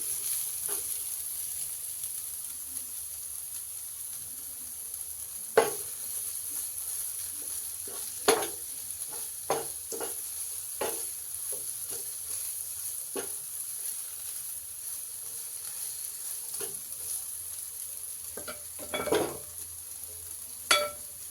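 Soya chunks fry with onion and curry leaves in a pan, giving a steady soft sizzle throughout, broken by occasional sharp stirring clinks and scrapes, louder near the end; no talking.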